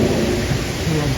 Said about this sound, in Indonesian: dengan cuaca yang hujan.